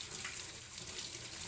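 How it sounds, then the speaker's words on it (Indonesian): A faucet runs continuously as hands are wetted for handwashing, a steady close splashing hiss of water with no voices over it. "langsung kita basahi tangan kita yang akan dicuci atau dibersihkan dengan air yang sudah disiapkan"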